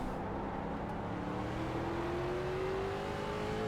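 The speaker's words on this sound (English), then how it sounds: "Get that into second gear one more time." A Street Stock race car in iRacing at Tsukuba drones steadily at close range, its engine note climbing smoothly as it pulls through a gear, with no talk over it.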